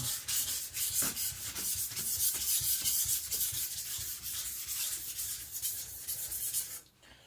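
An IKEA Chinese cleaver being sharpened on a stone, steady rhythmic scraping strokes rasping back and forth close up, continuous and fairly loud with no voices.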